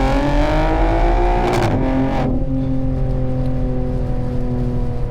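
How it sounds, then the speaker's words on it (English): A BMW M2 with the S58 engine and an aftermarket exhaust revs loudly and steadily up close, a deep throaty drone with a brief sharp surge partway through before settling back to a sustained rumble. "this is the best sounding exhaust setup that you can get on the S58"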